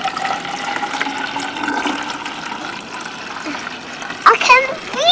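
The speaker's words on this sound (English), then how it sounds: "Okay, let's pour some water." Water is poured into a container for a color-reveal doll toy, a steady splashing trickle with brief higher gurgles near the end; a voice can be heard faintly.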